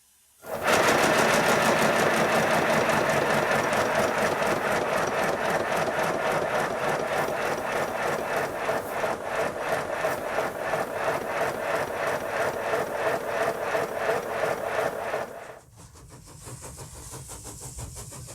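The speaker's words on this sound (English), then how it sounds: "I'll just run the engine, I think." A small model steam locomotive engine chugs in a fast, steady mechanical rhythm for about fifteen seconds, then cuts out, leaving a quieter hiss.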